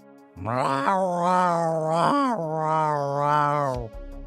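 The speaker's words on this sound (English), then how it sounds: "Other than getting screamed at by a cat? Meow, meow, meow, meow." A cat yowls loudly in one long, drawn-out meow that rises and falls in pitch several times before cutting off abruptly, close and alone.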